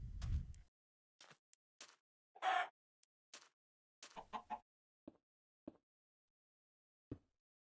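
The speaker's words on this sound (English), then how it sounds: "Chicken." A string of short, separate chicken clucks from the blocky game Minecraft, played in the FTB modpack, each a quiet chirp spaced irregularly over several seconds with silence between them and no talk.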